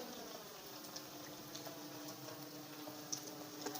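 Poha snacks fry gently in hot oil on low heat, giving a soft, steady bubbling sizzle with faint ticking pops, quiet and close with no voices.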